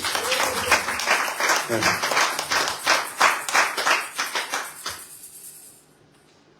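An audience at a prayer retreat in Germany claps in a steady, rhythmic beat, about a dozen loud, even pulses that taper off and stop, followed by a short spoken word.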